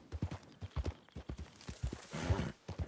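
Horse hooves clip-clop at a walking pace in Red Dead Redemption 2, a steady rhythm of close, distinct beats with a brief snort or whinny partway through.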